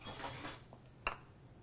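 A spoon gives a single faint metallic clink against a dish in a small home kitchen, one short isolated tap over quiet background noise.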